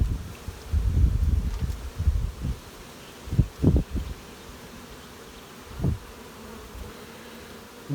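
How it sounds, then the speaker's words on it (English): Unsettled bees buzz around mini nuc hives on a queen-catching day, a close, low drone broken by bursts of rustling and handling noise, with no voices. "They're very unsettled sort of bees."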